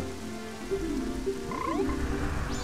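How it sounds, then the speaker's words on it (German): Frogs croak in the video game The Legend of Zelda: Ocarina of Time, with several bright, rising and falling calls over a rainy, looping musical backdrop. "Da haben wir jetzt insgesamt drei Frösche"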